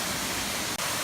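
Erawan waterfall in Kanchanaburi rushes in a steady, loud, broadband roar of falling water, close and continuous with a brief dip near the end.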